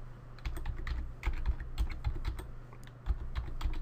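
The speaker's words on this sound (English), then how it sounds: "what we need to do here now is type in" Keys clatter on a computer keyboard in quick, uneven bursts of clicks, fairly close and alone, like someone typing a filename into a command box.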